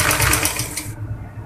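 Sewing machine stitching the folded hem of a baby umbrella frock, a fast, steady mechanical whirring chatter up close that stops abruptly partway, leaving a quieter hum.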